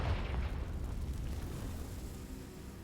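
A Confringo fire spell bursts in Hogwarts Legacy with a loud, rumbling boom that sustains as a dense roar and slowly fades over a few seconds, with no voices.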